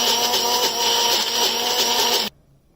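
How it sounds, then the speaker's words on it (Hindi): A mixer grinder grinds thandai ingredients with a loud, steady whirring roar that runs unbroken, then cuts off abruptly into near silence. "और इसको मिक्सी में पीस लेंगे"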